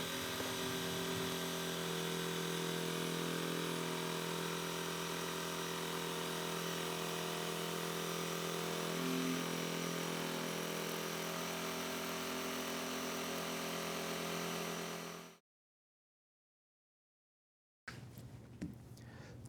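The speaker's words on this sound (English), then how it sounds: "Jigsaw did a fine job of removing the bulk of the waste to create the opening in the router tabletop" A jigsaw cutting out an opening in a router tabletop, producing a loud, sustained motor buzz with a constant pitch for about fifteen seconds, then a sudden stop, silence, and a brief return of noise.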